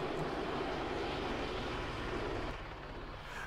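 Stolen jet aircraft flying in a video game, a steady broadband engine roar that holds constant and eases slightly toward the end, heard alone without talk.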